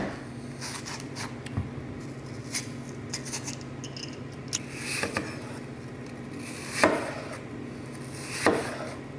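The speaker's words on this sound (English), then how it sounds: "We are going to peel and core the apples and then cut them into 1/4 inch" Knife slicing peeled, cored apples into quarter-inch slices for a Dutch apple pie, a soft steady series of cuts and scrapes with a few sharper taps against the board, close and quiet.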